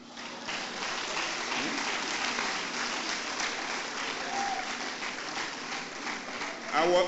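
Conference audience at an annual association meeting clapping continuously, a broad sustained applause filling the hall, with a voice briefly rising over it near the end.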